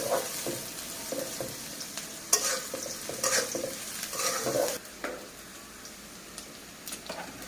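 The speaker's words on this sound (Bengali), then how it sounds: "তেল ঝাল কাঁচা ঝাল আর পেঁয়াজ দিয়ে দিলাম ভাজি করে নিয়ে।" Onion and green chili fry in oil, with repeated scraping stirs over a crackling sizzle that fades toward the end.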